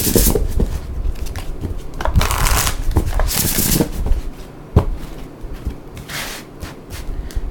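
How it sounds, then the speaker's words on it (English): Chakra mindset oracle cards are shuffled by hand, with quick riffling and sliding flicks in irregular bursts, close and clear, and no talking. "This right here is the chakra mindset cards."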